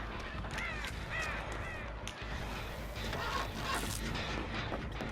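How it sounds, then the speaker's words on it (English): Crows caw in a Dead by Daylight match, a few harsh calls scattered through the first seconds over a constant low game ambience, moderately distant. "I heard crows go off on the other side of the pantry as well."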